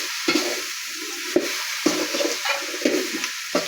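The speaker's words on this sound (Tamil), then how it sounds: "இது அந்த எண்ணெயில் போட்டு ஒரு வதக்கணும்" Chopped vegetables sauté in hot oil, a steady close sizzle broken by several sharp scraping stirs of a spoon against the pan at an uneven rhythm.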